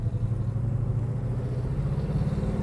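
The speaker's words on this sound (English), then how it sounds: "listen to that exhaust. And I'm just touching the accelerator. This big block wants to get up and go" A 1966 Chevrolet Chevelle big-block V8 rumbles close by with a deep, steady exhaust note under light throttle and no clear revving peaks. No one speaks.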